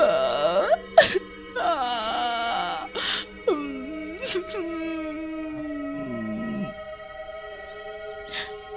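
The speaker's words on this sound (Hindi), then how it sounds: "इतने में एक औरत के रोने की आवाज आती है।" Woman wailing and crying in a Hindi horror cartoon, a series of drawn-out moaning sobs with rising and falling pitch, fairly close, interrupted by short sharp gasps.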